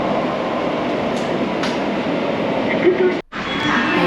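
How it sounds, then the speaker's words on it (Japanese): A Tokyo Metro Fukutoshin Line train rumbles loudly into underground Shibuya station, a steady roar of wheels and motors with a brief metallic squeal, then a sudden drop. "ちょうどホームには副都心線の電車が入線していますので、こちらの電車に乗車したいと思います。"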